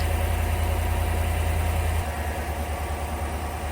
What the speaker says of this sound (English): I let the engine run about a minute or so.